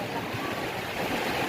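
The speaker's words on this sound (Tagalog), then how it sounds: "ito ang inihintay ng lahat, ang lalakas ng ulan" Heavy rain pours down in a dense, steady hiss that stays constant and fairly faint across the whole moment, with no clear voices over it.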